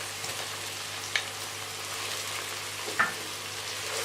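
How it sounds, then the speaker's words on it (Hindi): Ginger garlic paste and spices fry in a pan with a soft, steady sizzle close by, broken by a couple of faint scraping stirs. "अब हम इसमें बाकी मसाले डालेंगे और उनको अच्छी तरह भूनेंगे।"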